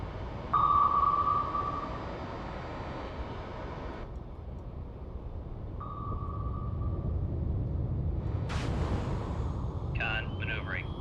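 Submarine sonar pings in a submarine video game: two clean tonal pings several seconds apart over a low engine rumble, followed near the end by a short burst of sharper electronic sounds.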